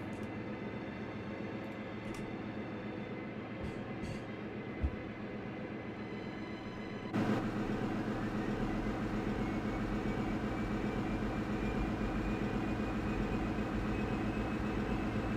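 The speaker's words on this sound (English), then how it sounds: "Let's get some engines going, shall we?" Airliner engines spooling up in a flight simulator game, a steady low mechanical roar that stays level, with a sudden jump to a louder, fuller hum partway through and a rising whine building underneath, with no talk.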